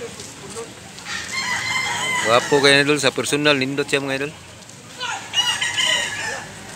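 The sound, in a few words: rooster crowing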